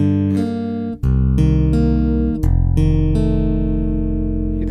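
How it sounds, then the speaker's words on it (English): Chapman Stick chords through a Stick Tech pickup, loud and bright with a jangly edge, a quick run of strummed chord changes ringing over a sustained low bass. "This pickup sound, you can hear it's a lot brighter, janglier sounding."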